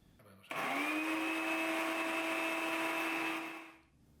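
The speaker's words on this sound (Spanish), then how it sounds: "El paso siguiente es poner la cúrcuma deshidratada en un molinillo o un robot de cocina." A grinder or food processor starts abruptly and grinds dried turmeric, a loud, steady motor whine with a high pitched tone that holds for about three seconds before winding down, with faint sounds before it starts.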